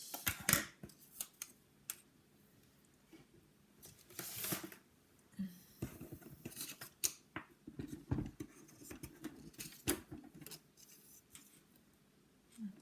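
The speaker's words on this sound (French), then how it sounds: "Alors, je vais couper." Scissors snipping paper while small words are cut out for a handmade surprise gift box, irregular close crisp cuts and rustling handling noises scattered through the stretch, with no speech.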